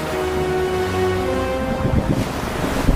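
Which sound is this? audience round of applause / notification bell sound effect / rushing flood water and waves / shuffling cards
rushing flood water and waves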